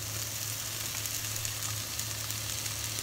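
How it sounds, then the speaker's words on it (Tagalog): Onion sizzles in a pan while yaki udon is being cooked, a steady, close frying hiss that runs evenly throughout with no talk over it. "Ilagay na natin ang ating onion kasi medyo matagal maluto ang onion"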